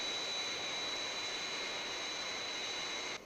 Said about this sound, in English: Aircraft on glide path.